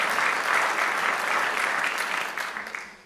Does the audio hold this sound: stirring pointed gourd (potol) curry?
no